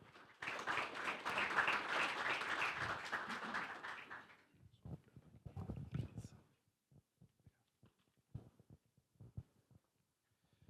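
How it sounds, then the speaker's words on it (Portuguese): Audience applause at a mining-industry event, a burst of clapping for about four seconds that fades out, followed by faint shuffling and quiet speech. "Uma salva de palmas, por favor."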